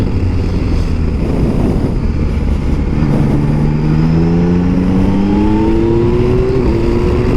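Yamaha Tracer GT+ motorcycle riding at speed, with a steady engine drone under heavy wind rush, then a rising whine as it accelerates through the gears in a smooth climbing pitch.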